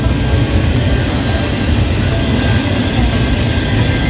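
A train rolls past close by along a road in Sorsogon, Bicol, as a steady loud rumble with faint clatter holding for the full few seconds, without talk.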